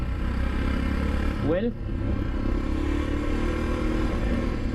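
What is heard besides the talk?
Royal Enfield Himalayan motorcycle riding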